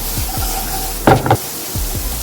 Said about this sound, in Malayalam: സവോള ഒന്ന് നല്ലതായിട്ട് ചെറുള്ളി ഒന്ന് നല്ലതായിട്ട് വാട്ടി വരാൻ വേണ്ടിയാണ്.